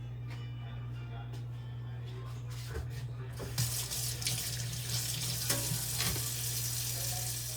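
A kitchen tap running while hands are washed at the sink: a low hum at first, then water gushes and splashes steadily, close and fairly loud, with soft clinks.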